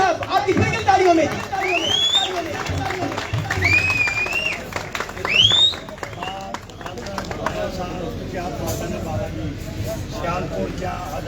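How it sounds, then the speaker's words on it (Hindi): Audience applause at a live stage event honouring sports champions in Punjab, Pakistan: steady crowd clapping, mixed with a few whistles and shouts near the start, then thinning out. "यार तालियां बड़ी कम हुई है मुझे"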